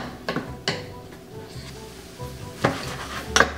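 Meat filling seasoned with cumin and lime juice sizzling in a pan, a soft continuous fry with sharp clinks and scrapes of a utensil against the pan scattered through.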